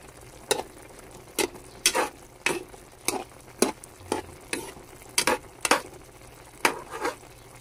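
A tomato sauce dish boils in a pot, a home-cooked birthday meal: soft bubbling background with a dozen intermittent, fairly close plopping bursts at an uneven rhythm.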